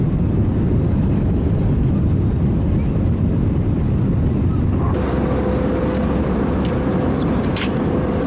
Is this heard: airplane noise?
yes